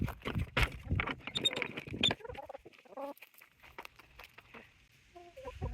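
Hens in a backyard chicken area cluck and squawk loudly in a burst of overlapping calls, then settle into scattered, fainter clucks close by.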